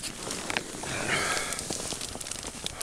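Campfire burning in deep winter cold at minus 27 degrees, soft steady crackling and hiss with scattered small pops, close but quiet, with no talking.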